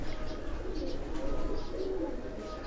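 Pigeons on a rooftop loft in Jalalpur Bhattian, Punjab, coo in low, continuous throaty murmurs, several birds together at close range, with faint distant noise underneath.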